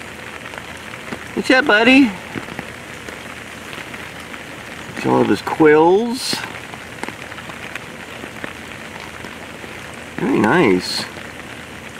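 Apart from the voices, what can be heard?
rain falling at zoo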